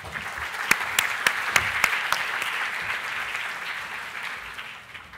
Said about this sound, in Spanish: Démosle la bienvenida a José Carlos con un fuerte aplauso.